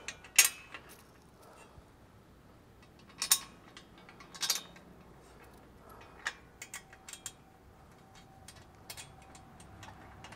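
Metal parts of a JT Gladiator bed rack clinking and ratcheting as bolts are fastened, with scattered sharp clicks and taps at close range against a quiet background.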